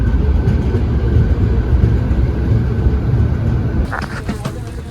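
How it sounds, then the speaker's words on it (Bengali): Swarna Shatabdi Express pulling out of Ludhiana Junction, a steady low rumble of rolling wheels and carriage noise heard from inside the train, with a brief shift in the sound near the end. "ছেড়ে দিল লুধিয়ানা জংশন।"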